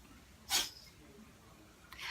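A cat with suspected sinus problems sneezes once, a sharp burst standing alone in a quiet room, followed near the end by a fainter second snort or breath.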